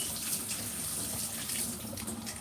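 Tap water runs steadily from a faucet into a sink as a carrot and onion are rinsed, a continuous close splashing hiss with no talking.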